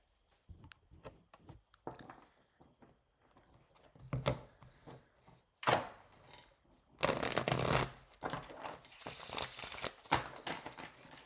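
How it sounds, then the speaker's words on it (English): A tarot card deck is shuffled by hand in a series of close, crisp riffling and flicking bursts, scattered and uneven, with the longest, loudest riffles near the end. "just a freaking great shuffle"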